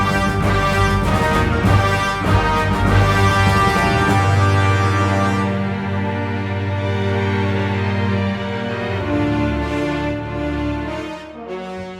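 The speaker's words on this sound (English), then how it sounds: "the original MIDI score has been re-recorded to sound like this" Orchestral re-recording of the TIE Fighter video game MIDI score, with sustained, full ensemble harmonies and a steady loud level that thins slightly toward the end, with no voices over it.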